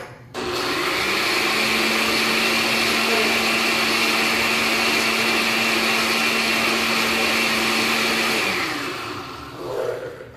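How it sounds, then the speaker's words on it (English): A kitchen blender blends rolled oats into pancake batter with a loud, steady motor whine that runs for about eight seconds, then winds down and stops, with no speech. "I'm going to blend it all up until it gets to kind of a runny mixture"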